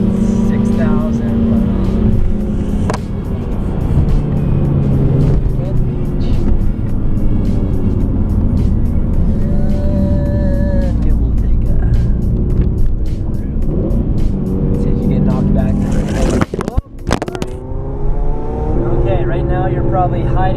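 A big-turbo BMW 135i pulls hard in third gear from inside the cabin, engine roar climbing steadily in pitch, then a sharp break at the shift followed by a lower rumble, loud and close under occasional talking.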